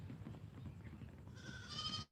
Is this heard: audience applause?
no